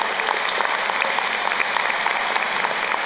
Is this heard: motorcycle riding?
no